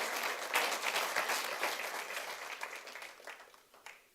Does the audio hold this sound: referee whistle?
no